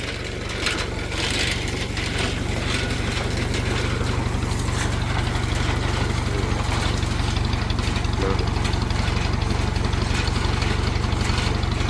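A farm tractor engine idles steadily nearby at a well-drilling site, a continuous low rumble with a constant mechanical chug throughout.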